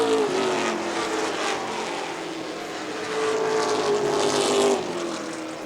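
Pro stock race cars roaring around a speedway, engines whining and droning with a Doppler pitch sweep as they pass, loud and continuous, swelling and fading as the pack goes by.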